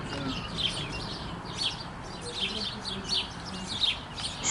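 Sparrows chirping, a run of short bright tweets repeating every half second or so over a soft steady background hiss, fairly distant and moderately faint.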